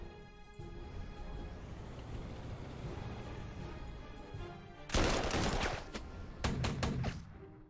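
Artillery fires in the strategy war game Panzer Corps 2: after a steady low rumble, two loud, close blasts burst out a moment apart, each with a crackling, fading tail.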